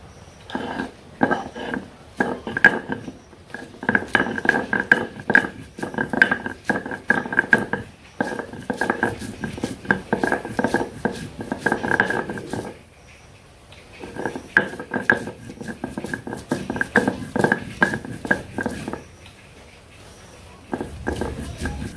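Cumin and other ingredients are ground together on a grinding stone in a village kitchen, making a steady, repeated rubbing and knocking rhythm, close and moderately loud, that stops briefly about halfway through.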